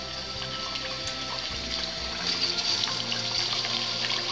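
Masala puris slipped into medium-hot oil in a kadai over a medium flame, giving a steady, close hissing and bubbling that swells slightly partway through and continues without talk.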